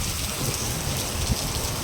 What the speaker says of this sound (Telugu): ఈరోజు ఈవినింగ్ అయితే వర్షం బాగా పడుతుంది.